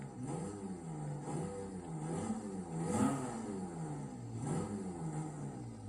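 A truck engine in Forza Horizon, either a Toyota Tacoma or a Mercedes X-Class, revs repeatedly with turbo whine, rising and falling in pitch in a steady rhythm of pulls, moderately loud and unaccompanied by speech.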